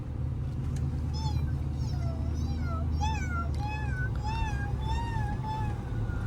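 A cat meows repeatedly, about a dozen short rising cries in quick succession, heard over the steady low rumble of a running 2024 Tremor on 37-inch tires.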